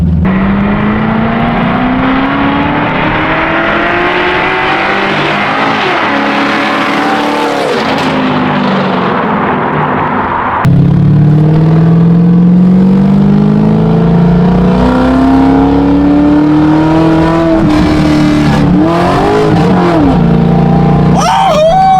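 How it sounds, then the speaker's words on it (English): A Corvette V8 with a new exhaust drones and revs through gear changes, pitch climbing and dropping as it accelerates, loud and close from inside the car. "here's the first drive POV with the new exhaust works"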